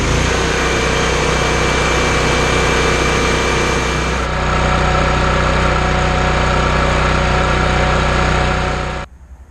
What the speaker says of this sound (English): Now that we've got our initial idle adjustment dialed in, we're running an optimal 1600 RPMs.